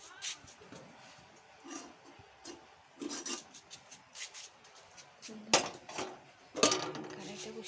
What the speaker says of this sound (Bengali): তো আমি কড়াইটা বসিয়ে দিই